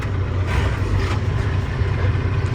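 A tractor-trailer combination vehicle's engine idles in low gear, a steady deep rumble with a continuous low drone and no speech over it.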